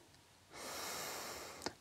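One deep, airy breath during a children's yoga session lasts about a second, close and soft, ending in a brief sharp sniff.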